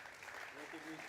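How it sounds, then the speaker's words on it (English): Steady applause from a crowd, a dense, even patter of clapping that holds throughout without pause. "A round of applause again."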